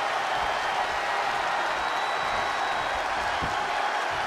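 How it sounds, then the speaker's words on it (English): Raucous wrestling arena crowd from the WWE 2K20 video game during a RAW women's match, a steady roaring wash of cheering and applause throughout, with no clear breaks. "What a raucous crowd here tonight."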